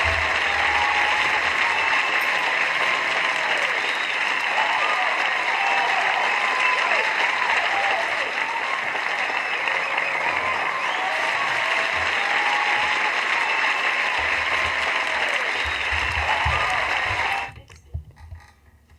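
An audience applauds at an event honouring young people, a dense, steady roar of clapping that holds evenly for about seventeen seconds before stopping abruptly, followed by faint low background noise.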